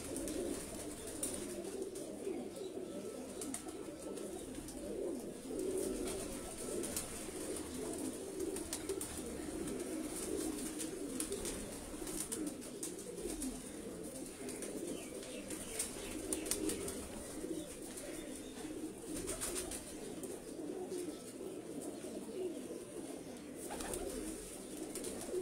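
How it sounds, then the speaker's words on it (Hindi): Pigeons coo softly and steadily throughout, with a faint flutter of wings now and then, at a breeder's loft in Lahore. "उस्ताद जी बड़े अच्छे माशाल्लाह कबूतर दिखा रहे हैं।"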